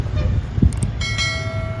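Train at Bhimtola railway station, a rumbling rail noise with a brief horn-like tone and a sustained whistle, moderately loud and somewhat distant.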